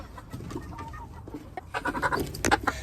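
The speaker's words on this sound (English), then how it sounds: "he got to being called Devil Bird because when his hormones hit being a rooster" A rooster on a homestead gives scattered clucks and chortles, quiet at first, then a louder burst of rapid fowl calls toward the end, close by.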